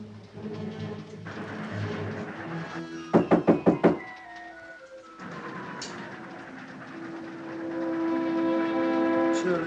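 Five quick, loud knocks rap on a door aboard a moving train, set against the steady rumble and rattle of the rolling carriages.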